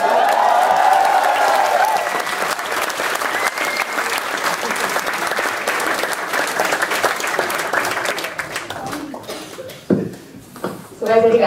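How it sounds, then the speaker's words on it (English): Audience applause for a debate moderator at a leadership summit debate, a dense, loud burst of clapping that fills most of the stretch before thinning out and trailing off near the end. "So I think I won that round of applause."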